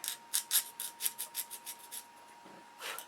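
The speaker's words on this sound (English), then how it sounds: "sand it down till it fits perfect" A spar piece being sanded with a sandpaper sanding stick: a quick, rhythmic series of short scratchy rubbing strokes, close and fairly quiet, with no talk.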